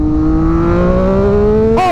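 A Triumph Daytona 765 Moto2 limited-edition motorcycle engine, loud and close, in a steady rising rev on a rainy road, ending with a sharp shift.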